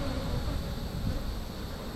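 A captured honeybee swarm buzzing inside a beehive, a dense continuous hum of many bees heard up close and steady throughout.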